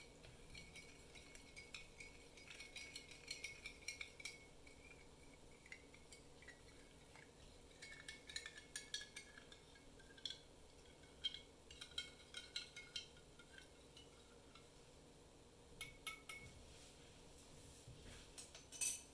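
Salt being stirred into water in a glass, heard as faint, irregular clinks and taps of a spoon against the glass, growing busier midway, over a quiet background hiss.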